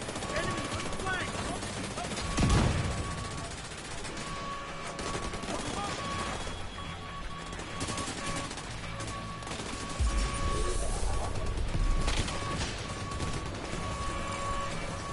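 Bursts of rapid gunfire in a PS4 shooter crackle over a busy game soundtrack, with heavier volleys and a thump or two standing out, and voices talking over part of it.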